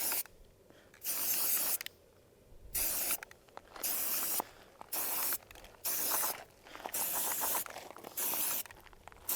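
Matte spray paint hisses from an aerosol can onto a rifle in a series of short, uneven bursts separated by quiet gaps, close and fairly loud, with no talking.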